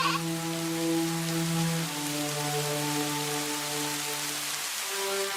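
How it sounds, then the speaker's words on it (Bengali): Rain falls steadily at night in a cartoon scene, with a constant close hiss of drops on surfaces and sustained musical tones held underneath the rainfall from start to finish. "বৃষ্টি হচ্ছে, ওই ঘরে তো পানি পড়ে।"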